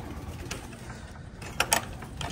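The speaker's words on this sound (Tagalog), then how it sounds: "All goods yung mga ibon natin dito." Pigeons cooing quietly in a racing-pigeon loft, soft low murmurs under a steady hiss of background noise, with a couple of brief sharper chirps or flutters near the end.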